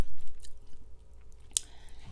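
Biting and chewing Thai food (fatty beef stew with papaya and vegetables, sticky rice): close, wet squishy mastication with one sharp crunchy bite, alone without talking.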